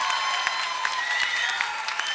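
Crowd applauding at the 2004 IRF World Racquetball Championships after a kill shot, dense steady clapping from many hands filling the whole stretch, with a few louder claps standing out.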